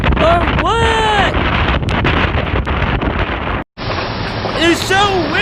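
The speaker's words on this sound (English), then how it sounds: "It's so windy, man!" Strong hurricane wind roars and buffets close to the microphone in a loud, continuous rush, cutting out for a moment before surging back, with voices shouting over it.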